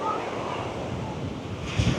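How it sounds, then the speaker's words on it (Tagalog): Big ocean waves at Saud Beach in Pagudpud, with windmills nearby, roar as a steady broadband wash with wind buffeting the microphone and a slightly louder surge near the end. "Grabe, ang laki ng alon."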